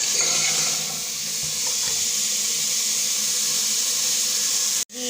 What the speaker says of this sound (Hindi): इसको अच्छे से हम फ्राई करेंगे